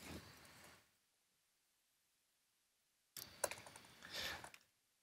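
Quiet clicking of typing on a computer keyboard, one short burst of keystrokes, a pause of near silence, then another rapid run of taps, close and soft.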